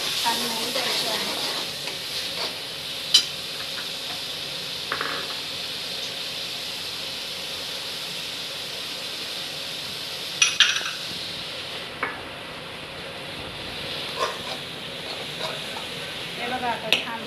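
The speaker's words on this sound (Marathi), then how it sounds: "हलवत राहायचं आहे, लागू द्यायचं नाही आहे खाली।" Tomato masala for chole sizzles in a pan with a steady soft hiss while a spoon stirs it, scraping and tapping the metal now and then. Occasional talk is heard.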